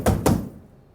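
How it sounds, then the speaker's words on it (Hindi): Two firm knocks on a door, close and loud, quickly fading into quiet. "तो दरवाजा बजने लगा"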